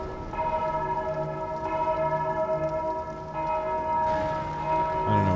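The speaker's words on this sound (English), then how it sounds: "Bells?" Bells ringing in the video game Dark Souls 2, sustained ringing tones with repeated strikes layered over each other, swelling louder near the end.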